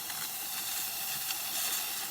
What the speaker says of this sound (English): Nice steam coming out of the machine.